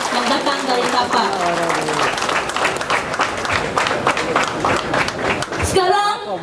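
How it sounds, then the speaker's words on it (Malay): Audience applause for Dr. Manuti at a Malaysian political rally, a steady sustained wash of clapping from a crowd filling the whole stretch, with a loud voice over it and a brief break near the end. "Satu tepukan kepada Dr. Manuti yang datang dari Sabah."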